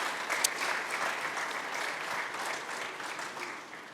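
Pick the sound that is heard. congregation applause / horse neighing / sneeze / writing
congregation applause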